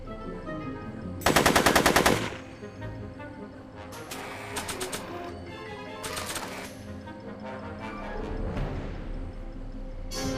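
Bursts of rapid gunfire from a Back to the Future video game on PS3: one loud, close automatic volley followed by several shorter rattling bursts over a low background bed.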